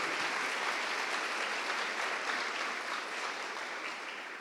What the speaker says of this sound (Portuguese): Dê ao Senhor um forte aplauso